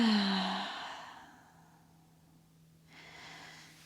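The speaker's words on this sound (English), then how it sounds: "take a deep breath." Slow, deep breath from someone doing a gentle yoga stretch, knees hugged to the chest. A soft inhale then a long, fading sigh-like exhale, close and fairly quiet, followed by a pause and a faint second breath.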